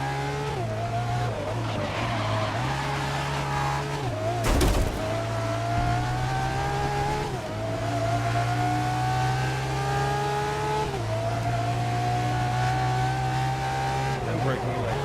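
A race car in the racing game Grid 2019 droning loudly at high revs, its engine pitch stepping down through several downshifts with a brief tire-squeal burst mid-way, while someone talks over it throughout.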